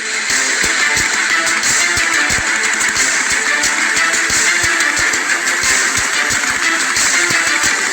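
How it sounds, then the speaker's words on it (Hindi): A heavy Bullet motorcycle engine runs steadily and loudly for the whole stretch, a constant mechanical drone with rapid low thumping and no voices. "मोटरसाइकिल, वो भी भारी भरकम बुलेट, उसको कैसे कंट्रोल करा जाए।"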